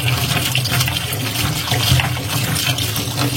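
Tap water pours steadily and loudly into a sink while vegetables are washed, a continuous rushing splash with no talking.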